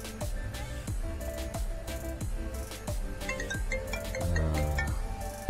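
An iPhone ringtone sounds after a call is placed from a tiny Royalstar W102 phone: a bright repeating electronic melody with plucked rhythmic notes, fairly clear and steady, with no voices.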